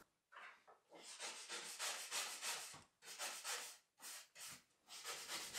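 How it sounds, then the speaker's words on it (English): A coarse steel brush scrubs the base of waxless cross-country skis in quick back-and-forth strokes, a close, raspy scraping in uneven bursts with short pauses between passes. "I like to use a pretty coarse steel brush for cleaning my skis."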